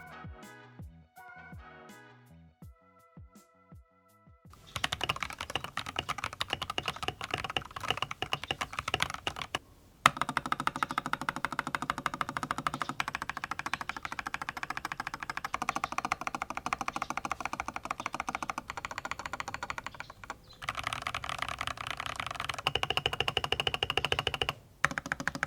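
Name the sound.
Gamakay LK67 keyboard typing with stock switches and Ako keycaps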